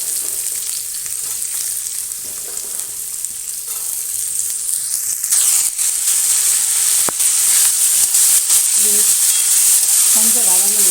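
Green beans frying with sautéed onions in a pan, a steady loud sizzle broken by occasional stirring scrapes and clicks throughout.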